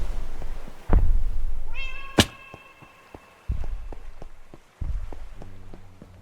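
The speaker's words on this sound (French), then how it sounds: "j'ai entendu un bruit de chat." A cat meows several times inside the horror video game From the Fog, with clear rising and falling mewing calls around mid-clip over a dark ambient backdrop, thumps and a sharp impact.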